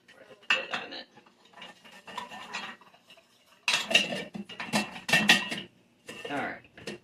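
Metal utensil clinking and scraping inside a pot during home cooking, in several uneven bursts of stirring separated by brief quiet gaps.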